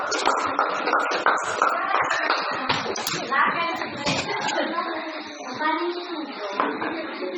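Children in a classroom clap for a fellow student, scattered uneven slaps of small hands close by, mixed with shuffling and young voices.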